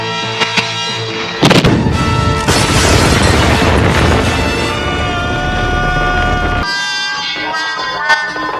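An old cannon test-fired in a cartoon goes off with a sudden loud boom, followed by several seconds of roaring, crackling blast noise that cuts off abruptly.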